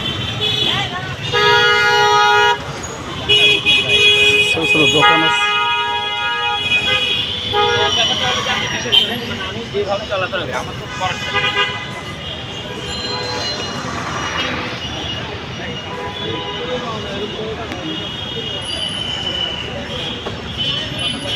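Heavy traffic jam on a street in Gulshan, Dhaka, with repeated car horns honking near and far over a constant engine and crowd rumble, while someone talks throughout.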